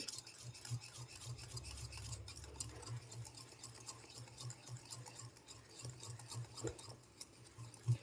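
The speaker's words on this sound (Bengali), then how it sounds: "সবগুলো একসাথে আমি ভালো করে ফেটিয়ে নেব" Mango cake batter of flour, baking powder and baking soda is whisked in a bowl, making faint, rhythmic scraping and tapping strokes that run continuously at low volume.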